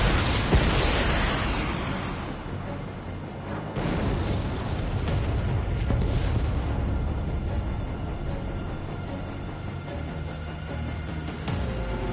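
Missiles launch and explode in an Ace Combat air-combat game, a dense, loud roar of rumbling blasts with sharper booms near the four-second mark, around six seconds and near the end, continuous and without talk.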